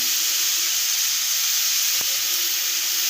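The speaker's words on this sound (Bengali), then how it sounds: "তাই আমি একটু হালকা তেলে এটা ভেজে নেব" Beetroot and carrot frying in a little oil give a steady, even sizzle and hiss that stays constant, with one brief knock partway through and no voices.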